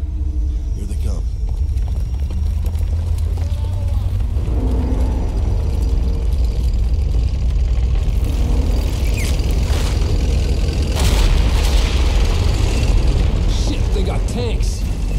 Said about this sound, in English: Tanks.